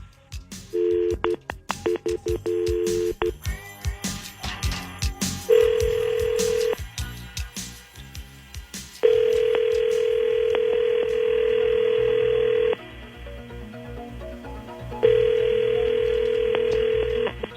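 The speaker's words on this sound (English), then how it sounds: "we're going to dial both of their numbers up at the same time" Telephone dialing for a three-way call: a quick run of touch-tone beeps and clicks, then a steady dial tone comes and goes in several long stretches, loud and clear with no talk.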